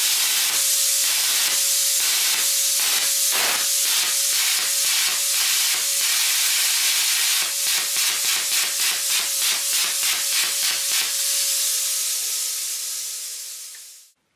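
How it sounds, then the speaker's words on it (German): A Lidl plasma cutter from 2025 starts its pilot arc: a steady hiss with a constant tone, broken by a rapid series of sharp pulsing bursts, then a long continuous hiss that fades out at the end. "Und jetzt kann ich hier mal den ersten Pilotlichtbogen starten."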